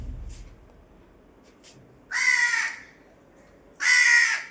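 A crow caws at a bedroom doorway indoors, two loud, drawn-out harsh calls close by, separated by a quiet pause, with a fainter brief call at the start.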